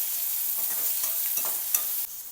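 Chopped onion and green chilies sizzle steadily in hot oil with asafoetida, mustard seeds and cumin while a spoon stirs and scrapes the pan in a few soft strokes. The sizzle stays close and constant.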